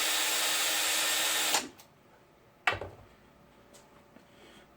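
Power trimmer trimming once-fired LC 308 brass cases: a loud high whirring runs for about a second and a half, then cuts off, followed by a sharp clack and a few faint clicks.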